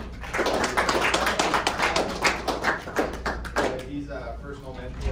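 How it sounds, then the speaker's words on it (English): An audience gives a round of applause in a room, with dense clapping that starts strong and gradually thins out into scattered claps as a voice speaks over the tail end. "Can you give Jonathan a big round of applause?"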